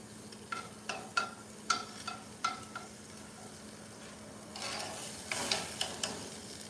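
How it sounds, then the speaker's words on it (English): Steady sizzle of steak with butter on a hot barbecue grill, with a series of sharp clicks and taps from utensils, then a louder burst of hissing toward the end. "I hope you guys can hear that sizzle on barbecue right now"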